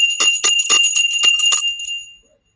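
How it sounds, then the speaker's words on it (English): A hand bell rings at a live auction of storage unit diecast cars, vintage items and toys: about seven quick bright strikes close to the listener, then a short ringing decay into silence. "You want to hear the bell?"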